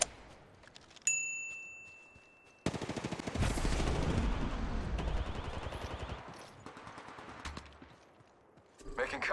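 Rapid automatic gunfire bursts in the mobile battle royale shooter Apex Legends Mobile, loud and dense through the middle stretch, with quieter shots and game chimes before and after.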